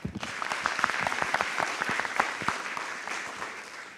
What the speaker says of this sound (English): please join me in giving our speakers one final round of applause